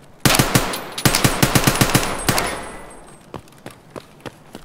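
Rapid bursts of video-game gunfire crack close and loud in uneven volleys, then trail off into a few sparser, fainter shots.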